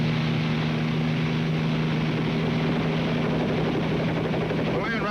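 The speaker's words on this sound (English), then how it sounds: "This here airplane, I mean helicopter, makes so much noise it just might scare Ma to death." A helicopter in flight drones loudly and steadily throughout, its rotor and engine roar constant and close with a strong low hum, and a voice talks over it.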